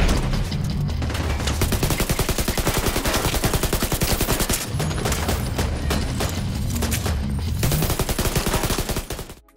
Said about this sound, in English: you'll hear distant fighting on the streets or a firefight will just start right in front of you